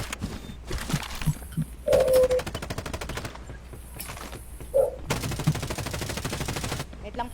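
Bursts of rapid automatic gunfire in a shooting video game, several long volleys separated by short gaps, with a few single sharp shots and game effects in between.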